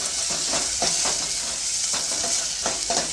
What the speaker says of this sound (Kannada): ಈಗ ಒಗ್ಗರಣೆಗೆ ಒಂದು ಗೆಡ್ಡೆ ಬೆಳ್ಳುಳ್ಳಿ ಹಾಕ್ಕೊಂಡಿದ್ದೀನಿ